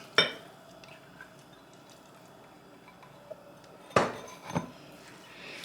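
A spoon clatters sharply against a bowl while muffin batter with carrots is stirred: a few distinct knocks stand out from a soft, wet mixing texture, with no voices.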